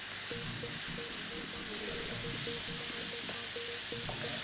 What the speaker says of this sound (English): Mix your rice in. Give it 1 stir